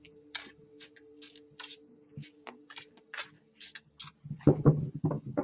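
Tarot cards being shuffled, a series of soft crisp riffles and flicks in an uneven rhythm, close and fairly quiet, with a low steady hum underneath and a few louder handling thumps near the end.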